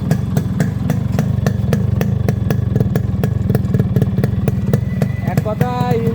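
A Yamaha RXS 115 motorcycle engine idles close by with a steady, rapid thumping beat, a little uneven near the end.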